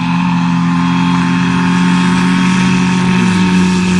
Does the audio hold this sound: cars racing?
yes